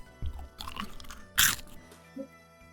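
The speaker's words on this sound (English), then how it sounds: "Crunch." A single crunchy bite sound effect during a fantasy dragon tabletop roleplaying session: a few soft crackles lead into one sharp, loud crunch midway, then a small squishy click, close and alone with no talk.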